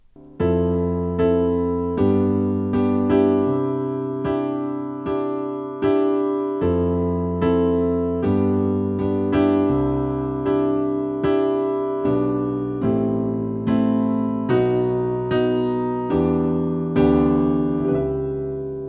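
Easy piano accompaniment for the bridge section of a song, steady repeated chords struck in an even rhythm with left-hand bass notes, played alone and clearly at moderate volume.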